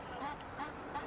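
A recorded short-eared owl from Utah gives three evenly spaced, soft, hoarse calls at moderate distance over a low steady hiss.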